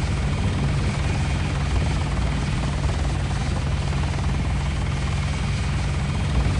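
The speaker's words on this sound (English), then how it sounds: "Where's the helicopter?" A helicopter in the video game Counter-Strike: Condition Zero makes a loud, steady rotor drone that throbs without pause throughout. No one speaks over it.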